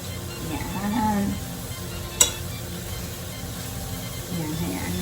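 Squid sizzles in a pan as it sautés for a Filipino seafood chami, a steady close frying hiss with one sharp metallic clink partway through and a voice speaking over it.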